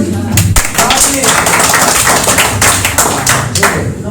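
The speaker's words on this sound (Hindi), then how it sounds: "तालियां बजाते हैं। Clap for her." A classroom of students claps as a classmate comes up on stage for a public speaking practice, loud, dense clapping close by that keeps going steadily with a few louder thumps and some voices underneath.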